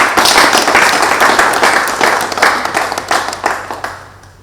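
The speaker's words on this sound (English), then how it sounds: "Please, let's clap for Mr. Governor." An audience applauds a governor at the reopening of the Onitsha drug market, a dense crowd of hands clapping steadily and loudly before thinning into scattered, fading claps toward the end.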